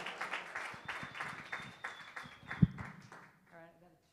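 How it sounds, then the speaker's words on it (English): Enthusiastic clapping from a crowd fills the space, with a sharp thump near the end as the applause fades out. "give yourselves a round of applause."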